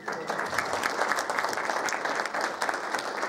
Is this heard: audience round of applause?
yes